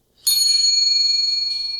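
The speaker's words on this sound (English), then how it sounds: "A nice, delicate bell." A single delicate bell strikes once and rings out with a bright, pure metallic tone, then shimmers and slowly decays, close and clear with nothing else around it.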